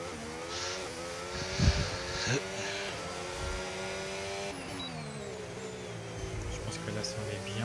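Formula 1 car lapping Melbourne's track in the F1 25 racing game, a steady high engine whine with shifting pitch as it accelerates and changes gear, loud and continuous under a voice.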